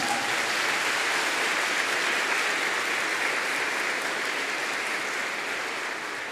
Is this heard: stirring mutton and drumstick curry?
no